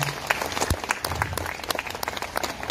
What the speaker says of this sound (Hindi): एक बार जोरदार अपने लिए तालियां बजाओ।